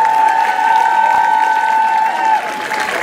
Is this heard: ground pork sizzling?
no